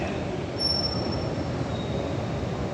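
Steady low rumble of a stationary train with a faint high metallic whine drifting in and out, continuous and fairly loud throughout.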